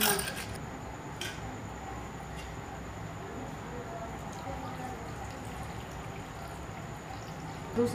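Thinly sliced potatoes for Bihari-style aloo pag are washed by hand in a pan of water, giving a continuous wet swishing and sloshing with small splashes and drips throughout, close and steady.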